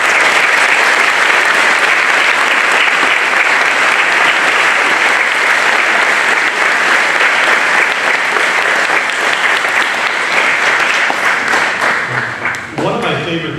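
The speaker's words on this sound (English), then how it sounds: "Let's give them all a round of applause." Loud, sustained applause fills a large hangar at a Civil Air Patrol encampment graduation, a dense continuous roar of clapping that holds for many seconds before thinning out near the end.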